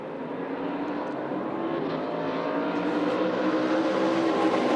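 ARCA Menards Series race cars roar together on the Daytona track during a restart, a dense, steady engine drone that builds slightly in loudness over several seconds with no voices.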